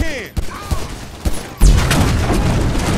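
A few gunshots ring out in GTA 5 before a gas can bursts in a heavy boom, followed by a sustained rumbling roar of the explosion.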